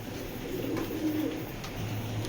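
Pigeons, racing and high-flyer breeds kept for sale, coo softly and close by, a few low murmuring calls under a faint background hum.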